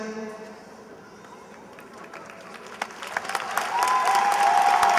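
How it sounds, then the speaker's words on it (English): Graduation ceremony audience starts applauding for standing trustees, scattered claps building into loud sustained applause in a large hall over lingering voices. "And give them a round of applause"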